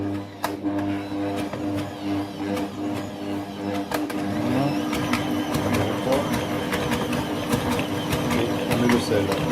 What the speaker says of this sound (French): on rallume le batteur.